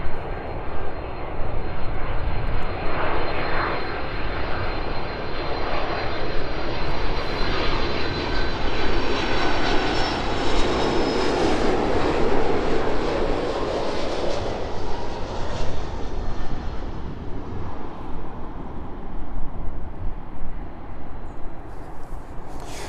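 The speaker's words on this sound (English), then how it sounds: "675 feet there as it continues its descent in towards us" A large cargo jet, likely a Boeing 747, roars on its descent to land at East Midlands Airport, with loud, steady engine noise that swells and fades as it passes close overhead.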